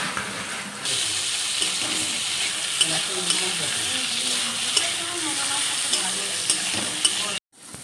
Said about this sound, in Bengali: 5 ফোড়ন আর টমেটো দিয়ে ফোড়ন দিয়েছে